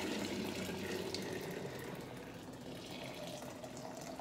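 Pink lemonade pours from a container in a steady, continuous stream, a close splashing flow that holds fairly even and then tapers slightly, with no talk over it.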